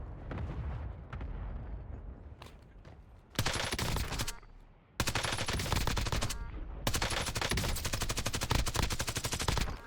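A suppressed automatic rifle fires in a first-person shooter game, long rapid bursts of loud, dense shots with short gaps between, close and dominant over faint game sounds.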